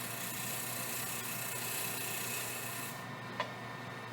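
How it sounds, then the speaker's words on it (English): A sharp turning tool takes a finish cut on a wooden lidded bowl, giving a steady, loud rasping hiss for about three seconds. The cut then stops abruptly, leaving a quieter hum and one brief tick. "I would go and grab my sharp tool now, and I would just basically give a finish cut."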